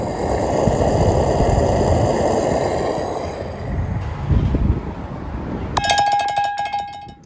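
A bright bell rings out near the end with a ringing, sustained tone, following several seconds of rumbling outdoor noise like a passing vehicle.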